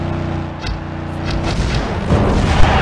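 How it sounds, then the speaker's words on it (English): Rapid booming blasts of twisting rockets firing in the wrestling video game WWE Crush Hour, several loud thuds over a droning vehicle engine hum, close and continuous. "Kane now has control of the twisting rockets."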